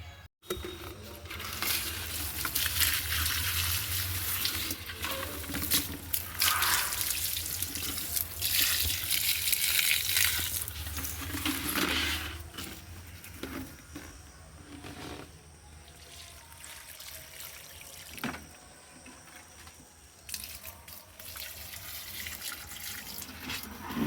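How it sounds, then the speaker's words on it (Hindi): Water pours and splashes steadily into plant pots on a rooftop, a continuous rushing flow that eases and restarts, with occasional clatter, heard alone without talk. "डाल लेते हैं गमलों में पानी"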